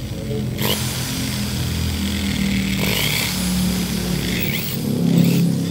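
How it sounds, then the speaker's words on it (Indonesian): An angle grinder works steadily to smooth and level a stripped bolt hole, a continuous whirring drone that swells slightly louder near the end, with no talking over it. "Langsung kita gerinda, harus rata lagi, perhatikan."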